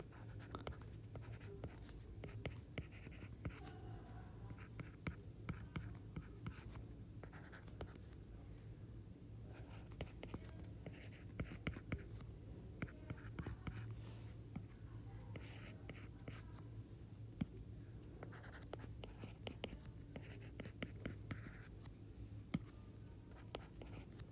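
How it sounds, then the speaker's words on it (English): A pen scratches across paper while writing out a line's equation, a continuous close rasp of strokes and small taps with brief pauses, heard alone without speech. "I'm going to take my equation. I'm going to write it."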